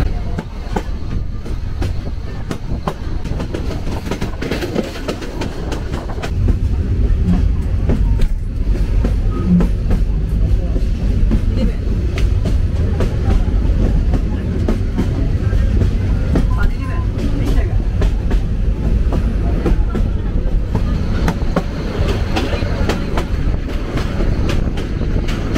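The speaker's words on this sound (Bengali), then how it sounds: "আমাদের ট্রেন এই মুহূর্তে ছেড়ে দিল মানিকখালী রেলওয়ে স্টেশন" A train pulls away from Manikkhali railway station with a continuous, loud rumble and wheel clatter. The rumble swells and stays steady from several seconds in, with no clear voices over it.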